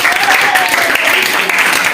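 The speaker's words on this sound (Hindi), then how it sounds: "तालियां बजा दो एक बार" Students in a classroom applaud steadily and loudly throughout, a dense continuous patter of many hands with faint voices mixed in.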